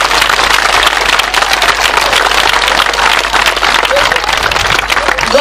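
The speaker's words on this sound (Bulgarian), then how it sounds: "Вашите аплодисменти за нашите талантливи български деца!" A ceremony audience applauding talented Bulgarian children, a loud, dense, sustained wash of clapping from many hands filling the room without pause.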